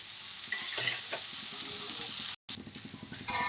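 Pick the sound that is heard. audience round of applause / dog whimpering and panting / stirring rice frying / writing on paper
stirring rice frying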